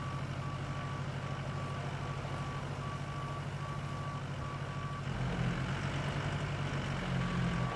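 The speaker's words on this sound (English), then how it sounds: "This truck is a beast." A heavy truck in the RoadCraft construction game holds a steady, loud low engine drone throughout. Regular electronic reversing beeps run over it, and the engine note rises and strains toward the end. No one talks.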